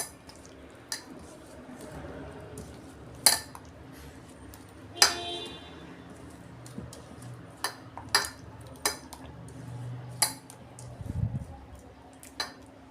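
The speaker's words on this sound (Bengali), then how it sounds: "অল্প বেসন দিচ্ছি, এটাকে ভালো করে এবার মাখাবো।" Gram flour being worked into fish roe in a bowl by hand, with soft squishy mixing and several sharp utensil clinks against the bowl scattered through, close and fairly quiet.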